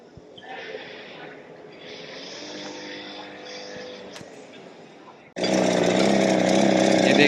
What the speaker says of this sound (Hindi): ये सुपर चार्जर इंजन है जो कि फ्लो ऑफ एयर जनरेट कर रहा है जब वो मोटर अपन मैनुअली घुमाते हैं।